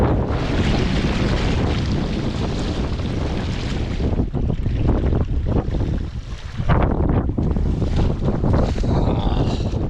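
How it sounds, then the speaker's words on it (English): A raging river torrent rushes loudly, its broad roar of water blended with heavy wind buffeting the microphone, dipping briefly before surging back. "That is a raging torrent."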